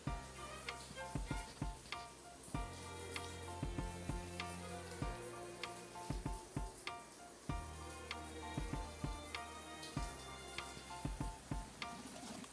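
French fries deep-frying in hot oil while preparing shawarma, giving a continuous crackling sizzle with irregular louder pops and occasional stirring clatter, close by and steady for the whole stretch.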